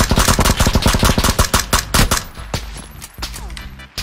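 Gunfire in the video game PUBG, a loud, close burst of rapid automatic shots for about two seconds, followed by a few sparser single shots against quieter game sounds.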